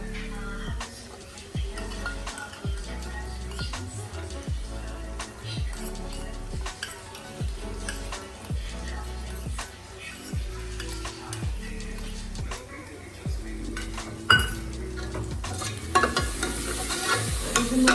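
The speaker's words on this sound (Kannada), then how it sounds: "ಒಂದೆರಡು ನಿಮಿಷ ಫ್ರೈ ಮಾಡ್ಕೊಬೇಕು" Ground tomato masala paste frying in a pan for mutton gravy, with a steady sizzle and rhythmic scraping stirs of a spoon, close and moderately loud, alone without talk.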